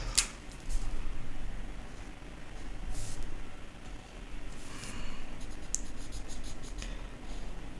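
A pen scratching across the page of a bullet journal as the days of the week are written in, with quick, dry strokes coming in uneven bursts and short pauses, close up.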